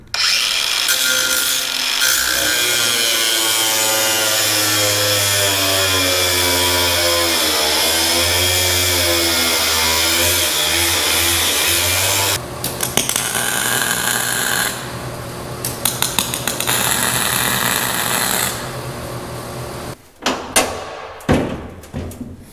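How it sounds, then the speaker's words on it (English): An angle grinder cuts welds off angle iron while a highboy sprayer boom is being repaired. A loud, steady, wavering whine runs for several seconds, then breaks into choppier grinding bursts and a few knocks. "So I'm just gonna angle grind off these welds right here"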